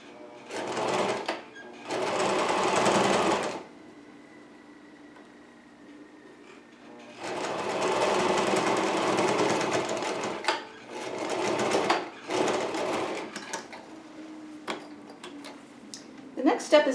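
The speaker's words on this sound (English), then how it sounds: "Lay it down, sew it in about 1/8 of an inch from the edge. Get some back and forth sewing just to hold it down well." A sewing machine stitches the edge of a fabric face mask in several bursts of steady whirring, with short back-and-forth runs and pauses of quiet between them.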